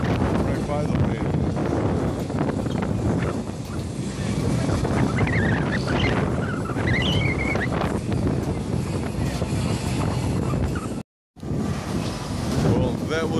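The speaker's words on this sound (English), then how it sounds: "The wind is so strong though." Strong wind roaring and buffeting a microphone outdoors, loud and continuous with gusty surges, briefly cut off near the end before resuming.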